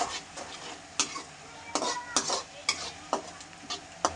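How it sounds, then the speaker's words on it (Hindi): Onions frying with ginger-garlic paste in a pan, a steady sizzle broken by regular clinks and scrapes of a spoon stirring against the metal, up close. "इसको हम अच्छे से इसमें मिला देंगे और प्याज के साथ में ही अच्छे से भून लेंगे।"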